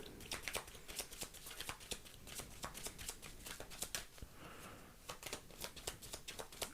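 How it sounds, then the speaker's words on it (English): A deck of cards is shuffled by hand in a series of quick, crisp riffles and slaps, close and fairly quiet, continuing for several seconds. "I'm going to shuffle over here"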